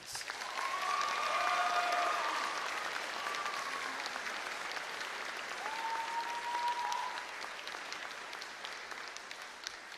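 A crowd at the Vancouver iTech Preparatory 2024 graduation gives a round of applause for graduating students, a continuous, fairly distant roar of clapping with a few faint whistles and cheers riding over it.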